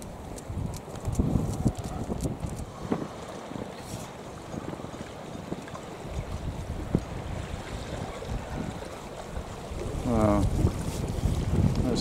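A northerly wind gusts across the microphone outdoors, a continuous rough buffeting rumble with scattered knocks and a brief tonal squeal late on, moderately loud throughout.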